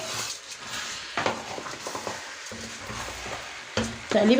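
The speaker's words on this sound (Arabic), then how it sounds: "دلوقتي بقى كده خلاص حطينا الرز، هقلب بقى تقليبه" A spoon stirs rice in a pot while making Egyptian stuffed cabbage, giving soft scraping and shuffling strokes with occasional louder knocks against the pot, close up, with no talk.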